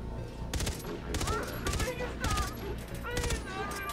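Rapid bursts of gunfire from a weapon in the video game Far Cry 3 Blood Dragon, loud repeated volleys in several quick clusters over a dense synthetic game background.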